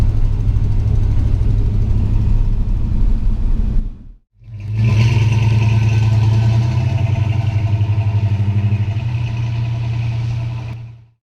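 A 1960 Plymouth Fury's engine drones with a steady low rumble while driving, cutting out briefly, then swelling back in and holding until fading at the end.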